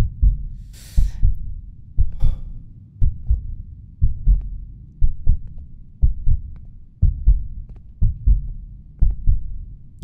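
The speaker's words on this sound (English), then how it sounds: "Oh, the heartbeat." A loud, deep heartbeat from the horror video game The Lost Fear thumps in steady double beats, repeating evenly and close throughout, with no talk over it.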